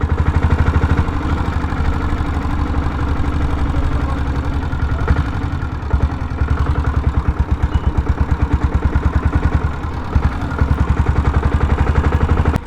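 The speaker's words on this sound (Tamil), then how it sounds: "நம்ம டீசல் புல்லட்டோட இந்த எக்ஸா சவுண்டு இந்த டவுனுக்குள்ளே வரும்போது இருக்கிற சவுண்டே தனி" A diesel Royal Enfield Bullet motorcycle thumps steadily through its exhaust while riding into town, a loud, close, low rhythmic chugging that carries on throughout with no talk.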